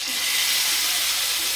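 A beef fillet sears in hot oil in a pan, making a loud, even hiss of bright sizzling that holds steady and close with no talk over it.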